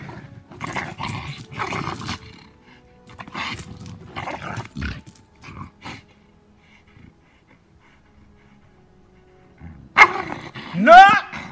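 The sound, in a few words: aggressive Malinois dog growling, biting its leash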